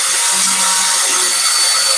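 A leather edge being burnished, producing a loud, continuous high-pitched rubbing whir held steadily at close range with no voices.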